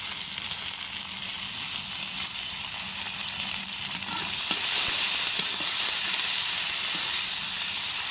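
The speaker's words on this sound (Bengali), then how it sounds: "দিয়ে দিলাম মরিচ পেঁয়াজ, দিয়ে দেবো কয়েকটা আস্ত রসুনের কোয়া" Chillies, onion and whole garlic cloves fry in fish oil, a loud, steady close sizzle and hiss that swells slightly midway, with occasional faint stirring clicks and no voices.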